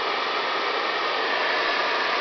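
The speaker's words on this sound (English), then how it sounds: "Now, granted, it's an 1800 watt blow dryer, so it's hotter than most heat guns that I've used" An 1800 watt blow dryer runs steadily on hot, a loud, even rushing whoosh of air with no breaks or voices.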